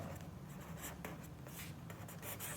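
A pen scratches across paper in quick strokes and short bursts, close and quiet, as numbers are written out by hand during a Class 9 maths lesson.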